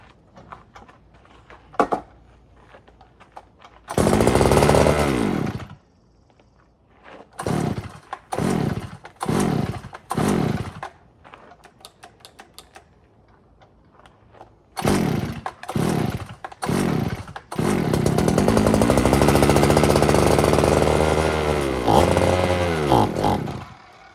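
A StrikeMaster ice auger's small two-stroke engine roars loudly in repeated revving bursts, then settles into a longer sustained run with a wavering pitch.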